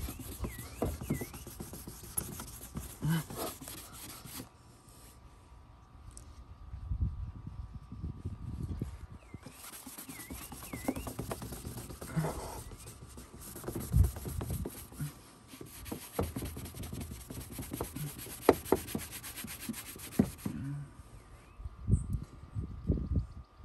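Toothbrush scrubbing a car headlight lens, a dry rasping grind in repeated back-and-forth bursts, close and fairly quiet, with pauses between strokes.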